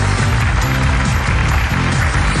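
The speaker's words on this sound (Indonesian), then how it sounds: "Kita berikan tepuk tangan untuk Anes." Studio audience applause on an Indonesian television dating show, a loud, steady wash of clapping filling the whole moment, with music or a band playing underneath throughout.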